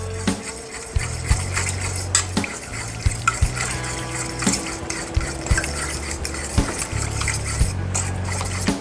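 A spoon stirs fresh cracked pepper and seasoning in a bowl, with steady scraping and light clinking against the sides and a soft low hum underneath.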